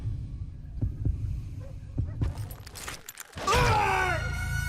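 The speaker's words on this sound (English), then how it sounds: "When you hear the heartbeat, you can draw your gun first" A slow heartbeat thump repeats under a low hum in the Western game Call of Juarez: Gunslinger, followed by a sharp crack and a bright ringing burst that swells and lingers loudly at the end.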